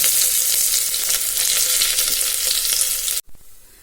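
Crushed ginger, garlic and fennel seeds sizzle loudly in hot oil for mutton kulambu, a steady close hiss that cuts off suddenly near the end, leaving faint crackles.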